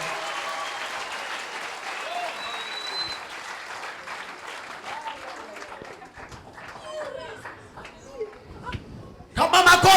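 A congregation claps and applauds at a church service, a dense continuous patter of hands with crowd voices mixed in, swelling into a sharper loud burst at the very end.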